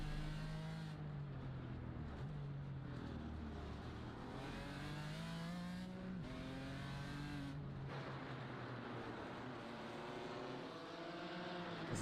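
Sim-racing BMW race cars on the Long Beach street circuit in a video game, their engines droning and rising in pitch through the gears, then falling as they brake, a continuous close roar of several cars.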